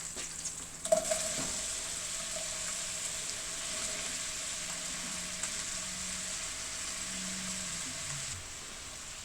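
Onions sizzle in a hot pan for Creole chicken gumbo, a steady bright frying hiss that runs evenly throughout after a brief clatter at the start, with no talking.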